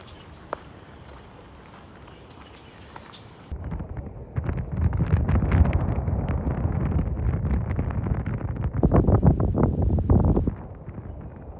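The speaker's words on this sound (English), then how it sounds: "it's that breezy, soft wind" Rumbling, buffeting gusts of breezy wind, quiet at first, then a strong steady roar across the mic for about seven seconds before easing, with no voices.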